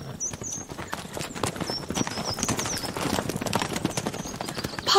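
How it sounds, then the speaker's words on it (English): Horses' hooves clip-clop steadily as a horse-drawn carriage moves along, the rhythmic clatter fairly close and constant, with faint bird chirps above it. "Is the carriage and horses reset?"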